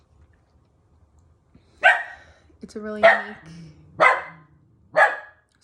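A pet dog barks indoors, four loud sharp barks about a second apart, close by, while someone speaks between and under them.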